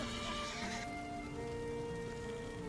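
A horse neighs in the Valheim video game, a clear whinny with tonal calls that fade over a steady background wash, heard without speech.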